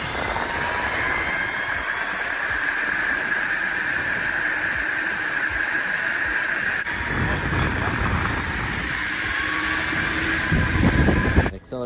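A Meepo Voyager X electric skateboard climbs a hill during a hill test, giving a steady high electric motor whine over rough wheel and wind rumble, continuous and close, ending in a sudden clatter.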